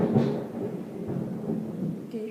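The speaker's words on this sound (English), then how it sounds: "I actually can hear thunder coming" Low thunder rolls and rumbles steadily throughout, a continuous deep murmur with a slightly stronger swell near the start, with no talking.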